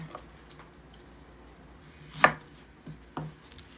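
A knife chops eggplant for a Thai green curry: soft, scattered cuts with one sharp, distinct chop near the middle and a couple of lighter taps after it, with no talk.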